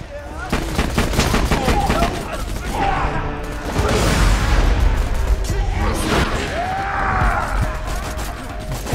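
Loud, close gunfire in Borderlands 2, with rapid automatic bursts and crashing impacts continuing throughout, overlapping talk and game sound effects.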